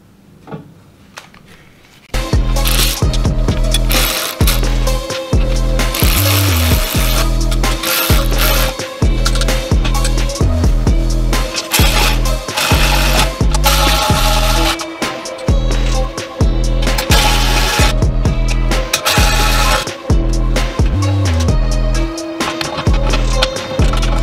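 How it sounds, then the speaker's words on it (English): A ratchet tightens the running board mounting bolts on a Ram 1500 pickup, making loud, steady, close clicking that repeats in rhythmic strokes after a quiet start. "go ahead and start tightening them down"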